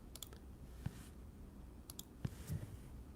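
Computer mouse clicks on a PC, a few sharp isolated clicks in small clusters over quiet background hum, close and faint.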